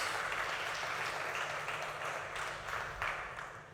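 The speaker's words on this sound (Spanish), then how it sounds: "Dale un aplauso a Dios si lo estás creyendo conmigo." Church congregation applauding together during a sermon, a steady moderate wash of many hands clapping that swells and fades slightly over a few seconds, with no voices over it.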